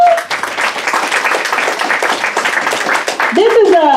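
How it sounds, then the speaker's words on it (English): Clapping breaks out for a candidate's wife at a town meeting, a loose, uneven patter of hands across the room, with a voice cutting in near the end. "Give her a round of applause."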